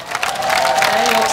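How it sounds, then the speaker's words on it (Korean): A concert audience at the 2013 Jeong Do-jeon commemorative music concert breaks into brief applause and crowd noise, rising quickly and holding steady with a faint voice or tone running through it. "그러면 박수 한번 주셔야지"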